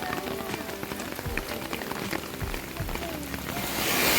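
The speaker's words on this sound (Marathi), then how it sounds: "एकदम जोरात पाऊस पडत आहे" Heavy rain pours down at a Swami Samarth temple in Palasdhari in a constant roaring hiss, with scattered drops striking nearby surfaces and a few low thumps, growing slightly louder toward the end.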